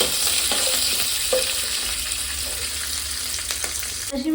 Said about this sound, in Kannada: ಇದಕ್ಕೆ ಹಸಿರು ಮೆಣಸಿನ್ಕಾಯಿ ಮತ್ತು ಕರಿಬೇವು ಎರಡೂ ಜೊತೆಗೆ ಫ್ರೈ ಮಾಡ್ಕೊಳ್ಳೋಣ